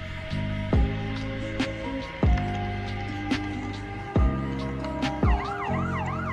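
A police siren wails steadily with a rising and falling electronic tone in Roblox, broken by repeated sharp mechanical clunks and thumps from game action.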